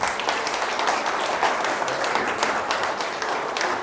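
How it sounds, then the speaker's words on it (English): Steady, dense applause from an audience at a company dinner event, a continuous wash of many hands clapping at even loudness, with no pauses or talking. "So round of applause for them,"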